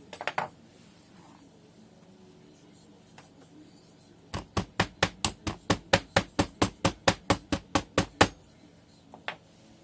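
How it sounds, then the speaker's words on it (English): A rapid run of about twenty sharp, evenly spaced hammer blows compacting sand over a pattern in a casting flask, loud and close, with a couple of isolated knocks before and after. "Hammer it in. Compact it really good over the pattern."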